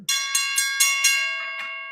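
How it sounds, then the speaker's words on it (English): Ringing bell honouring boxer Josh Taylor, undisputed junior welterweight champion, struck about five times in a quick uneven series, each strike bright and metallic with a long sustained ring that overlaps the next and fades after the last. "Ring the Ali bell for Josh Taylor."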